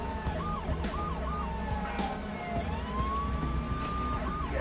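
A police car siren from the video game GTA 3 cycles through quick yelping whoops, then a long rising wail, over constant crashes and engine noise, with no talk.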